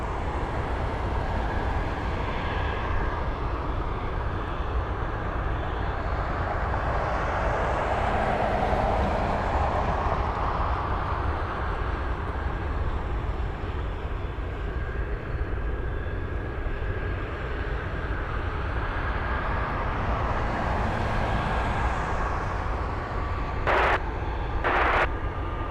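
A United airliner departs Anchorage airport in a long, moderately loud jet roar that swells and fades twice as it passes at a distance, with a short sharp tone near the end.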